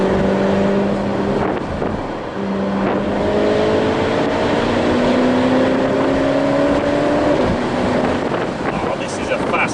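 Ferrari 812 Superfast engine revving on the road, rising in pitch through a couple of long pulls with a gear change between them, loud and close over wind noise, while a voice talks now and then.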